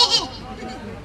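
A person imitates a goat's bleat with a short, wavering vocal cry, close and fairly loud, fading into quieter voiced sound afterward.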